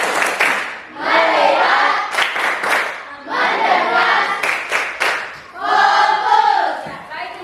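A class of students claps a rhythmic concentration clap pattern in loud bursts, with chanted voices between the claps.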